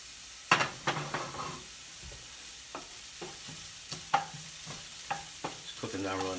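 Diced onions fry in a pan with a soft, steady sizzle, broken by a series of sharp stirring scrapes and clinks of a utensil against the cookware, close and fairly quiet.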